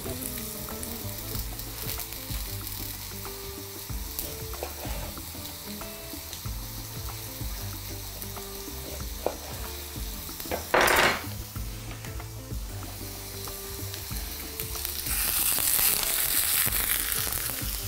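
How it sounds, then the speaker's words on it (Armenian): A steady, soft sizzle of a lemon slice frying in a pan, with occasional utensil clinks and a brief louder scrape partway through. "Տապակում ենք նաև 1 շերտ կիտրոն"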